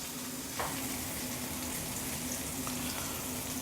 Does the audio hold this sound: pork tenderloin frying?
yes